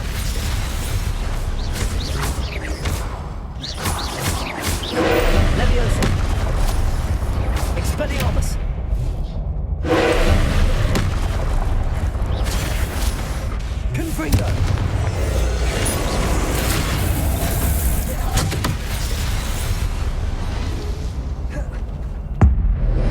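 Spell blasts from Hogwarts Legacy combat burst and boom one after another, loud crackling impacts and explosions layered over a running game soundtrack, with brief quieter gaps between volleys.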